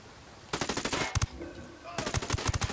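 ACR assault rifle fired on full auto in Ghost Recon Wildlands: two rapid bursts of evenly spaced, punchy shots, the first about a second long, then a short pause before a second burst, loud and close.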